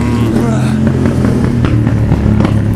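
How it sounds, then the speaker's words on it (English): A motorbike passes on a street, its engine a loud, close rasping drone that swells briefly, with voices in the foreground. "Motorbike."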